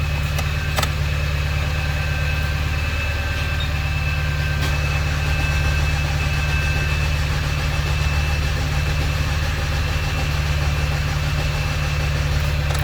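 A Ford car engine idles steadily with its idle-up feature engaged, giving a continuous low, even hum that stays close and constant with no speech.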